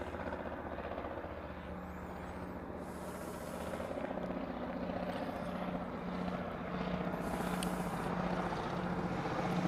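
An ANA Boeing 787 Dreamliner with a 50th-aircraft decal on its nose sits at Honolulu airport, its engines making a faint, steady, distant drone that grows slightly louder over time.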